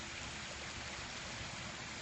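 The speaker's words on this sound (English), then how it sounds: "Got kind of a multi-level waterfall here." Multi-level waterfall splashing into a pond in an indoor water feature showroom, a steady broadband rush of falling water, faint and continuous with no voices.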